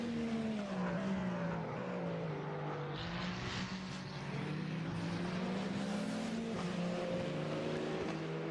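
Race car engines in a sim racing esports event at Fuji, several loud engines droning and shifting pitch continuously, with brief tire squeal mid-way, no voices.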